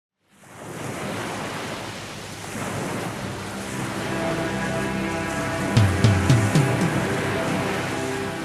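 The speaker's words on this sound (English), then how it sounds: "it's either just the sounds of water, rain, streams, oceans, etc." Water sounds opening a 2000s J-pop album interlude: a steady wash of ocean surf and rain fades in and holds, joined later by a few brief bright tones over the continuous noise.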